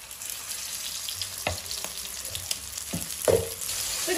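Pan-fried dumplings sizzle steadily in a hot pan, a continuous bright frying hiss with a few sharp crackles and light stirring clicks, close and alone without talk.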